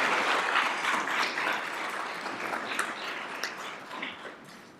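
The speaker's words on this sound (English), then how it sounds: "Let's give them a hand for this amazing." Audience at a school district governing board meeting applauds students, a continuous moderate patter of many hands that slowly fades across nearly five seconds.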